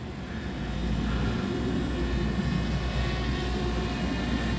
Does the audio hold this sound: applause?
no